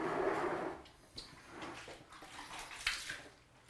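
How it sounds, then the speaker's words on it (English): Fresh water poured onto a tile floor treated with anti-slip product makes a soft splashing wash at first, then fades to scattered faint drips and small splashes. "apply some fresh water, which is what I'm doing now"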